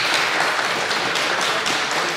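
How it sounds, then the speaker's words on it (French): A live podcast festival audience in Rennes applauds with dense, steady clapping that holds evenly across two seconds without a break. "Vous applaudissez si c'est faux."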